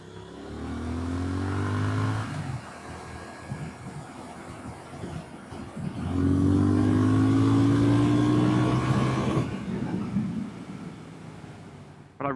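A Triumph Speed Twin 1200 motorcycle accelerates hard on an open national road. Its engine note climbs through a gear, drops at the shift and climbs again, loud and close.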